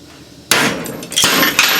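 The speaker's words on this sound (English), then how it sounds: "I'm not willing to try that on my good head, so I'm gonna do it on this junk one" A hammer strikes a junk VW diesel cylinder head with a sudden loud metallic crack, then a second sharp blow and a brief ringing clatter.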